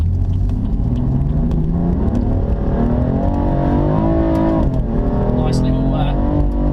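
A BMW M4 Competition accelerates hard in sport mode. The engine drones loud and steady from inside the cabin, its pitch climbing and dipping through the run, with a voice talking underneath.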